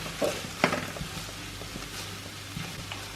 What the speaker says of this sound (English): You need to fry off the tomato puree, don't you?